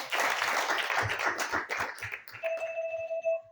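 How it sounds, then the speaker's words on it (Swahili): An audience at an ordination service claps together, a dense burst of applause with a few louder individual claps, while a steady electronic tone begins near the end. "Tuwapigie makofi"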